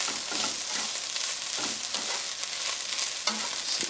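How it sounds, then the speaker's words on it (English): Fried rice tossed and stirred in a hot pan, a steady close sizzle with scraping stir strokes recurring every second or so, continuous and loud without talk. "Now I'm going to give this a mix and start getting this coated."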